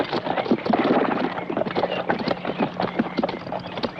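Several horses' hooves clatter as mounted riders come to a halt in an adventure action film, the quick, close hoofbeats dense at first and then thinning out.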